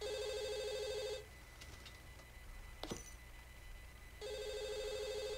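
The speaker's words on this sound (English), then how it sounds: "I'm not answering the phone when it rings" A phone rings in the horror game Underhell: a bright trilling ring sounds, stops for about three seconds of quiet with a small knock, then starts ringing again.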